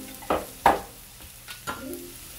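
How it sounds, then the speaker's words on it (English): Eggs beaten in a bowl for a breakfast burrito, heard as a few brisk, separate whisking strokes close by, with quieter taps after a short pause and no talking. "Beat your eggs."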